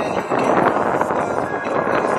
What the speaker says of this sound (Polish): Wieje przyjemny wietrzyk, mam nadzieję, że w ogóle mnie słyszycie.